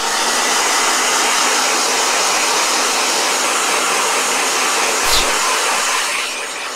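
A blow dryer runs with a loud, steady, breathy roar that holds nearly unbroken, briefly dips, then eases down slightly at the end.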